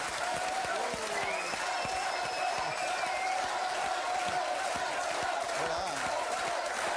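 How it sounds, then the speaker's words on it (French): A studio audience on the French TV game show Burger Quiz applauds steadily and loudly for the full stretch, with a voice faintly speaking underneath the dense clapping. "Je vous demande d'accueillir et d'applaudir Monsieur Bertrand Blier."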